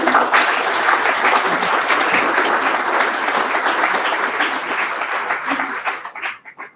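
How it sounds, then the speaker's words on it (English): A meetup audience applauds a presenter with dense, sustained clapping that holds steady for several seconds before thinning into a few last claps. "just a round of applause for Juan"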